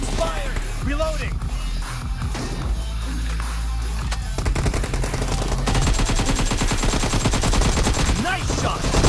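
Gunfire in the video game PUBG played on a phone: scattered shots early, then dense rapid automatic bursts building through the second half, with a voice speaking over the action.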